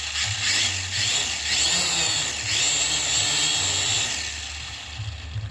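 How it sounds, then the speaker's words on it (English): Syma X5SW drone with brushed motors spinning up, a loud buzzing whine with wavering pitch as the rotors change speed, close and continuous, easing off slightly near the end. "The brush motors are not as quiet as your brushless motors, so it's going to be a lot louder."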